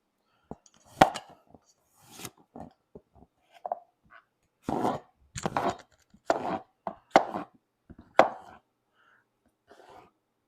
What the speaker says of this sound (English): I'm just going to make a few extra chunky pieces for this soup.